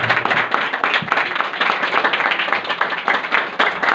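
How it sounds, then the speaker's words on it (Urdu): Congregation at a Sunday prayer service clapping loudly for the pastor, a dense burst of applause that runs the whole time with brief voices mixed in. "زندہ کلام کے لیے اور خدا کے خادم کے لیے زوردار تالیاں دیں۔"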